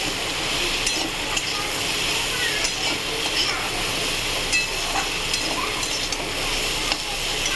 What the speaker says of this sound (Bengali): দেখুন বন্ধুরা, এইটা করলাটা দিয়ে দিলাম। গ্যাসটাকে আস্তে করে দিলাম।